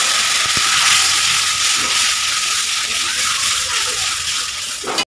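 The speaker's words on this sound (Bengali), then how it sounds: "লঙ্কার গুঁড়া দিন, একটু জল দিয়ে কষে নিন।" Chili powder sizzles in a pan as a little water is added and stirred, a steady bright frying hiss running throughout, close and loud, cutting off abruptly at the end.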